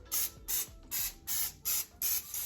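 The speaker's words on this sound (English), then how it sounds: "And this is the non-stick cooking spray. I'm just going to spray this on the grill." Six short bursts of non-stick cooking spray onto a grill in a regular rhythm, each a sharp hiss lasting about a quarter second, close and clear with quiet gaps between.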